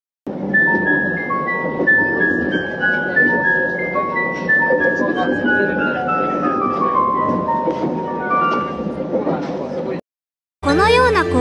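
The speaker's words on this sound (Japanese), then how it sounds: "そして実際に完成した車内チャイムをお聞きください" A Shinkansen in-car chime composed by Mayuzumi Toshiro plays as a clear, loud melodic line with a descending contour over a dense, eerie background, followed by a brief gap and a short burst of bright tones.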